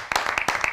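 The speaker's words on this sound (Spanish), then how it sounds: "Hay un aplauso en la mesa, en la sala," A few people clap at a table in a radio studio, giving a short burst of sharp, close claps in an uneven rhythm for under a second.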